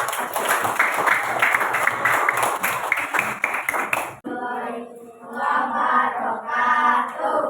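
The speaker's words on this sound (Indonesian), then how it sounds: "Tepuk tangan untuk Linda yang bisa" Applause for a student named Linda in a classroom lesson, a dense burst of many hands clapping for about four seconds before it cuts off, followed by softer overlapping voices.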